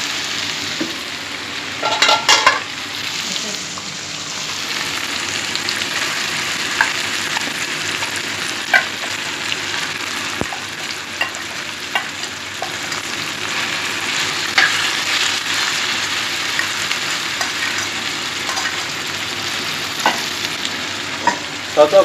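Chicken for a quick desi-style biryani sizzles steadily in a hot pan while a utensil stirs it in occasional scraping strokes, with no voices for over twenty seconds.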